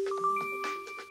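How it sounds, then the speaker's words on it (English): A short tonal notification chime from SynthEyes software marks completed mask propagation, with clear sustained pure tones stepping up in pitch and ringing steadily for about a second. "When the mask propagation is complete, you'll hear a notification."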